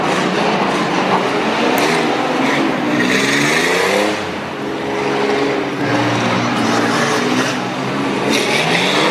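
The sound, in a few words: Chevrolet S10 race truck engine driving hard through corners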